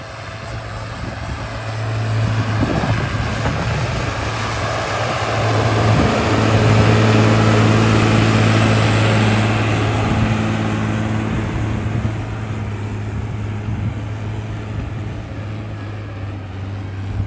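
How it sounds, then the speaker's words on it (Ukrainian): A 140 hp tractor ploughs a field with a new VEL plough, its engine holding a steady, loud drone that swells slightly midway and runs continuously with no voices. "Дивіться, як працює 140 е, кінських сіл трактор із даним плугом."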